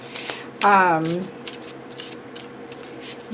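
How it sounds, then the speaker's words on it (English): Tarot cards of thick cardstock from a Majestic Earth deck are shuffled, one loud riffling burst followed by softer scattered shuffling taps, close up. "This cardstock shuffle is gorgeous."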